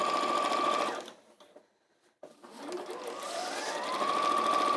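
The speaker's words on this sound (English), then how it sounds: "there's a lot of sewing in straight lines" A sewing machine runs steady straight seams on a tote bag, whirring loudly, pausing briefly to near silence, then starting up again and building back to full speed.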